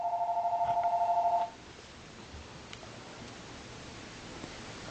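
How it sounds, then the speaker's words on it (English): A phone rings with a rapid warbling electronic trill that pulses for about a second and a half, then stops, leaving a quiet room with faint rustles. "sorry about the phone ringing"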